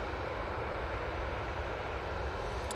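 An Aer Lingus airliner taxis to its stand after landing at Manchester Airport, with a continuous, even jet engine whine and rumble at moderate distance and no talk.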